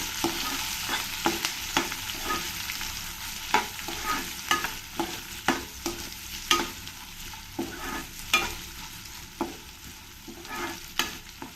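Sliced onions and curry leaves being stirred as they fry in oil for upma, a steady sizzle broken by repeated sharp scrapes of the spoon against the pan, close and moderately loud with no voices.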